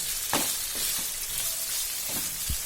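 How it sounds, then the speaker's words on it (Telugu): Marinated boneless chicken pieces fry in a pan with a continuous dense sizzle, broken by a few soft stirring thumps, close and steady throughout. "ఈ చికెన్ పీసెస్ని కొద్దిసేపు ఇలా ఫ్రై చేసుకున్న తర్వాత మూత పెట్టి చికెన్ సాఫ్ట్ అయ్యే వరకు ఫ్రై చేసుకోవాలి."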